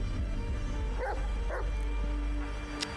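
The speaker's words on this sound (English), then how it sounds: "Dog sounds agitated." A dog in the Blair Witch video game barks agitatedly in two or three short, faint yips over a steady low drone and ambient hiss.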